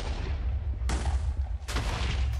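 Two sharp, booming blasts from the Minecraft explode mod ring out about a second apart, following a rumbling low-end background.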